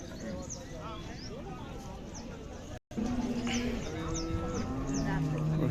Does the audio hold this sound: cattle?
yes